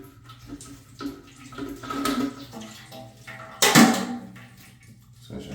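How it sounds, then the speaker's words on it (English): Leftover water from an unscrewed toilet fill valve splashes and trickles into a trash can below, irregular gushes with one louder surge, close and alone. "this is the excess water coming out"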